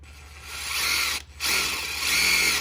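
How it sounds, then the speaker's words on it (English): A power drill drives a self-tapping screw into a transmission housing from a first-gen Cummins 47RH swap, two close bursts of whirring with a brief stop between, loud and alone. "So you put a self-tapper in there, just like so."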